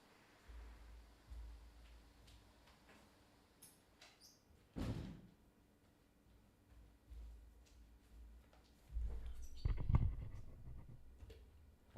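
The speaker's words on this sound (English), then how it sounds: "I forgot to close the door." A door is shut indoors: a sharp thud partway through, then a louder clunk and rattle later on, against a quiet room with faint background noise.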